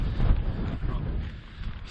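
Strong wind roaring across an exposed clifftop stretch of the South West Coast Path near a golf course, a heavy low buffeting rumble that peaks early and eases slightly, no talking.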